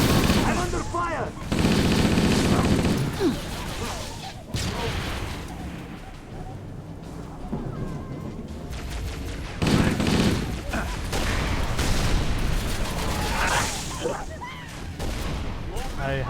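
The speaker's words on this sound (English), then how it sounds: "I'm under fire!" Heavy gunfire rattles through a firefight in the video game Halo Reach, with sustained automatic bursts and booming blasts layered over game effects and occasional voices.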